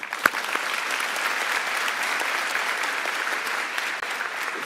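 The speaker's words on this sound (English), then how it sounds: "men, I want to believe that Professor Chauke deserves a firm round of applause." A room full of people at a University of South Africa graduation ceremony claps steadily, dense applause holding at an even level throughout without anyone speaking.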